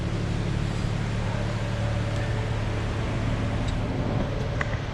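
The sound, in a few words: car engine idling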